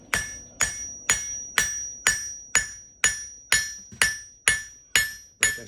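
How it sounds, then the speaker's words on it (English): A blacksmith's hammer strikes steel on an anvil while forging a leaf for a leaf trivet: eleven sharp, evenly spaced ringing blows, each with a bright metallic overtone that decays before the next hit. "this hammer's just going up and down"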